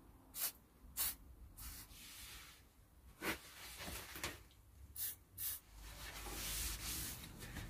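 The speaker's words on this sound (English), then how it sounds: "So let's spray around some of the screws, just to loosen things up a bit" Short hissing bursts of an aerosol spray onto screws of a vintage motorcycle, several quick squirts spaced irregularly, with faint rubbing and handling noises between them.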